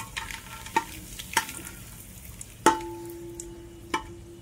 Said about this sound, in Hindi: हमारे घी हो गया गरम, अब इसमें हम चटपत्ता डाल रहे हैं।